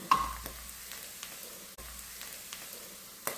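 Quiet, steady sizzle of spices and browned onion frying in ghee with cinnamon, cardamom and bay leaf for mutton biryani, with a few soft stirring scrapes and taps over the hiss.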